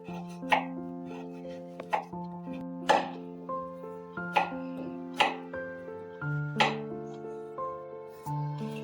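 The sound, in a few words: cutting jaggery into small pieces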